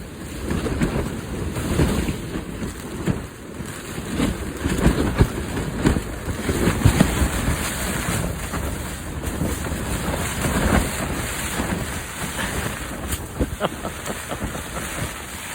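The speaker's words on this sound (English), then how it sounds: "Just a storm, just a crazy storm." Heavy storm at a campsite in Wales, with dense rain pounding and rumbling low thunder-like roars and gusts buffeting the microphone, loud and continuous throughout.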